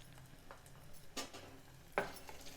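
Ginger-garlic paste and turmeric fry in a pan while being stirred, giving a soft background sizzle broken by a few sharp spoon scrapes and taps against the pan.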